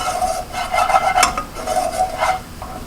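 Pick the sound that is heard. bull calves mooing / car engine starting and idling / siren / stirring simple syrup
stirring simple syrup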